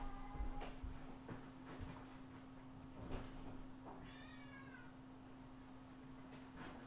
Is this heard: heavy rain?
no